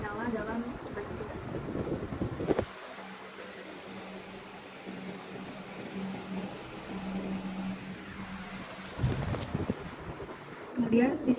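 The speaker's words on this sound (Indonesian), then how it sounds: "Kipas angin menyala dalam kecepatan 3." An electric fan running at speed setting 3 in a temperature- and humidity-monitoring demonstration gives a steady, faint, even hum through the middle, with talk before and after it.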